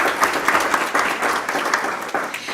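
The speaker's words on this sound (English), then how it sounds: "Let's give them a round of applause." Applause for award recipients at a school district board meeting: a small group clapping steadily and fairly close, with distinct individual claps in a modest room.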